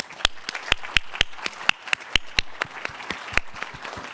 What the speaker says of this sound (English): can we have a big round of applause to our panelists?